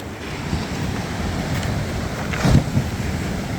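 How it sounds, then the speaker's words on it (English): Sea waves crashing over a stone slipway on a coastal path, a continuous loud wash of surf and wind with a heavier surge breaking midway. "the water's just come crashing over this"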